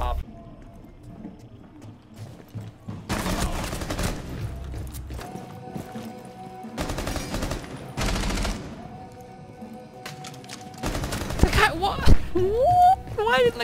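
Bursts of gunfire from the video game Rainbow Six Siege come in several loud clusters over a steady game backdrop, with a person talking over parts of it.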